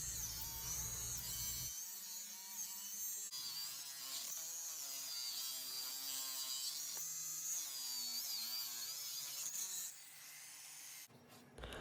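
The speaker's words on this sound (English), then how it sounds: "I tape the 1095 and 15 and 20 together and cut it with my angle grinder" Angle grinder cutting through taped bars of 1095 and 15N20 steel, a loud, steady high-pitched whine and screech that wavers in pitch as the disc bites, running continuously before cutting off near the end.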